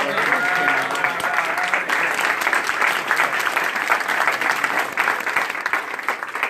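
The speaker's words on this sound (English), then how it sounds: "Let's give a round of applause for all of the" Dense, sustained applause from a large crowd at a legislative wrap-up meeting, steady and loud throughout with no pauses.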